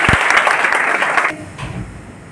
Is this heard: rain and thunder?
no